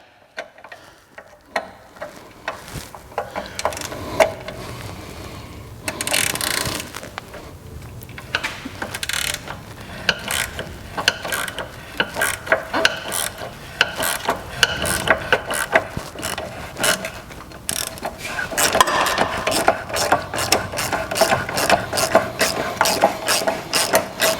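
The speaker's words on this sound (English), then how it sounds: "we're going to remove the nut that holds the sway bar linkage" A ratchet spins off the nut holding a BMW's rear sway bar linkage, giving a steady, close clicking of the pawl that runs almost without a break for over twenty seconds, with no voices.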